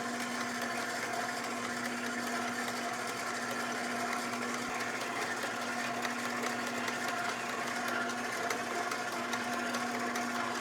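A stand mixer kneads pizza dough on low speed, giving a steady motor whir with a constant hum that runs unbroken and fairly close for the whole stretch.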